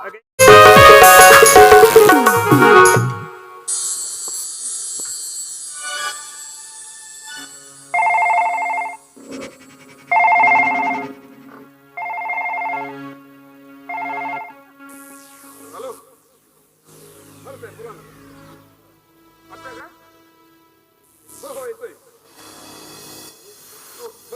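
A telephone rings in repeated bursts after a loud opening crash, each ring a few tones apart, with muffled sounds and pauses between.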